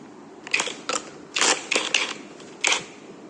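Cordless impact tool with a 19 mm socket working on a Lagenda 110 motorcycle engine, giving a series of short rattling bursts about half a second apart, close and fairly loud with quiet gaps between.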